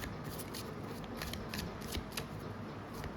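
Tarot cards are shuffled and drawn in a close, steady riffling rustle with light rhythmic flicks, quiet and continuous without talk.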